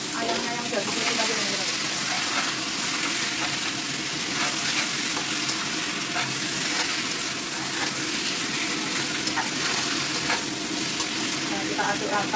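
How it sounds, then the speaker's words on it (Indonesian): Chicken pieces frying with ginger and garlic in a pan give a loud, continuous close sizzle with crackling spits and occasional stirring, unbroken throughout. "Terus kita tumis sampai benar-benar dia berubah warnanya"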